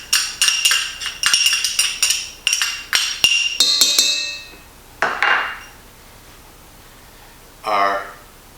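A metal spoon stirs garlic into chicken sausage chili in a pot, ringing out as a quick series of bright clinks and scrapes against the rim. Then comes a pause, one louder knock, and a voice near the end.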